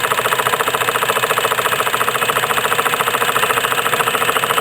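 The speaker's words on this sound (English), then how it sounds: "You can hear the steam engine beginning to labor." A steady, loud mechanical chugging drones on with a fast, even rhythmic beat as a small steam engine labors under load driving a PM Research generator.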